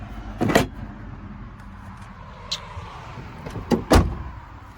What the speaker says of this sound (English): the doors close really well